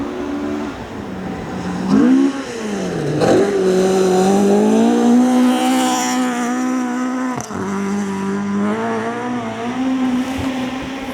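An Opel Manta rally car on a stage of the Riponian Stages 2025 rally, its engine loud and close, revving and changing pitch as it drives past, with a sharp knock partway through.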